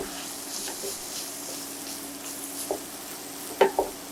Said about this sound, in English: saute them up in that butter